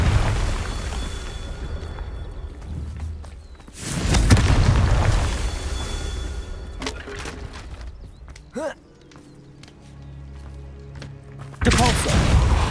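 Confringo explosion spells fire in the Hogwarts Legacy video game, each one a loud, booming blast with a rumbling tail. Several land in separate bursts across the stretch, spaced apart by quieter gaps.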